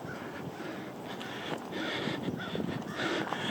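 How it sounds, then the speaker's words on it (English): Crows caw a few times out on a tidal marsh trail, harsh calls spaced apart and moderately distant against steady wind and outdoor hiss. "all the birds"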